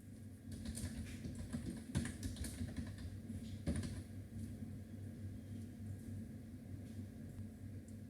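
Quiet typing on a computer keyboard while entering data into a web form, irregular soft key clicks with a few sharper taps over a low background hum.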